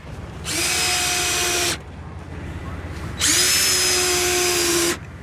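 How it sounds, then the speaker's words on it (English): A power drill whirs in two bursts of over a second each while screwing down lids, separated by a short pause, loud and close. "So that's why I'm going to go ahead and drill these down real quick."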